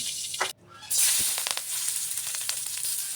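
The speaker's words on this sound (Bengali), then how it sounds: "পেঁয়াজ কুচি কাঁচামরিচ ভালো করে নেড়ে চেড়ে একটু ভেজে নেব" Chopped onion and green chili hit hot oil in a pan, setting off a loud, steady hiss and sizzle close by that keeps going after a brief drop.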